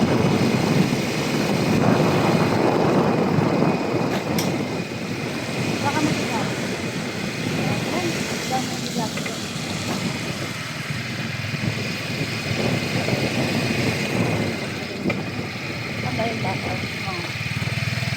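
A motorcycle carrying a rider and passenger drones along at steady speed with a continuous engine hum and wind rush throughout, while voices talk over it.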